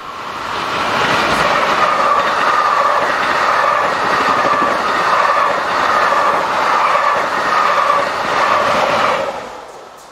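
Belgian passenger train IC 6707, Essen to Blankenberge, top-and-tailed by locomotives 2730 and 2729 near Veldiek, rumbles past steadily for about nine seconds with wheel clatter, then fades at the end.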